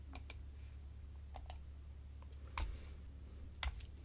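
Sharp computer mouse clicks, single and in quick pairs, spaced irregularly over a steady low hum while an eBay listing is being filled out; close and fairly quiet.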